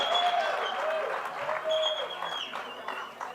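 An audience claps at a live interactive session, a moderate spread of applause that fades out over a few seconds, with faint voices and a tonal hum mixed in.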